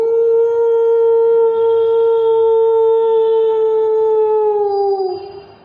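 A human voice imitates a film dog with one long, loud, steady howl that holds its pitch, then dips and fades out at the end.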